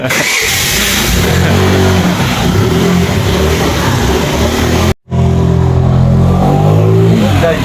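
A freshly rebuilt motorcycle engine, repaired for a traction problem, revs loudly and steadily up close, with a brief cut in sound around the five-second mark before the roar resumes.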